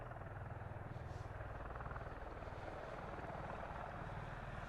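Osprey tiltrotor aircraft flying near RAF Mildenhall, a steady droning rotor hum with a low rhythmic thrum that holds at an even loudness throughout, moderately distant and without speech.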